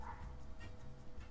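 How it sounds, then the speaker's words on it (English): A dog barks somewhere outside, a few faint, muffled yips and woofs in the distance over a low background hum. "Is that a dog?"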